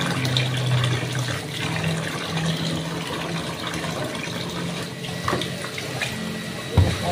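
Cut long beans being washed in water, with a steady running, splashing wash of water that continues throughout, close by, and a brief knock near the end.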